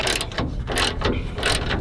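A socket ratchet wrench clicks in quick rhythmic bursts, three close, loud rounds of ratcheting with no voices.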